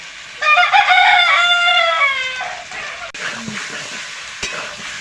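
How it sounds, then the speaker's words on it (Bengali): Chicken pieces sautéing with salt and turmeric in a pan, a steady sizzle with stirring scrapes, while a rooster crows loudly nearby over the first half. "এটা ভালো করে কষিয়ে নেব মাংসটা"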